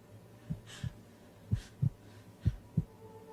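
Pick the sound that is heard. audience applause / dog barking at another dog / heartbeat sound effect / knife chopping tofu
heartbeat sound effect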